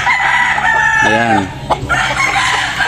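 A Sweater Boston Gray gamefowl rooster, a late-born bird, gives one loud, close crow with a rising, wavering cry, and someone speaks briefly nearby.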